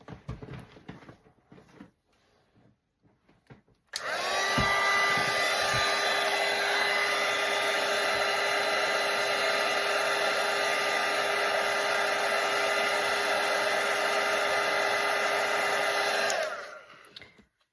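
A hair dryer blows steadily on a Christmas watercolour painting of a hand holding a present, switching on after a few quiet seconds and running loud and continuous for about twelve seconds before cutting off.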